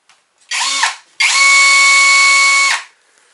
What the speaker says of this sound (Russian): Шнек, шуруповерт,